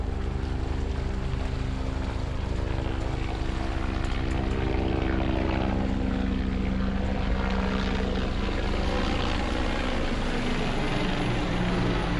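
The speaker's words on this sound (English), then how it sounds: "So here comes the helicopter." A helicopter's heavy rotor thrum and engine roar fill the air continuously and loudly, a steady low pulsing drone with no voices.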